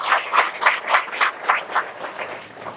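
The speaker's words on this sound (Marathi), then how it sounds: "देवासाठी जोरात टाळ्या वाजल्या पाहिजे" A crowd claps at a Guru Purnima worship and satsang gathering, bursts of applause swelling and fading in rough pulses for a few seconds with no voices over it.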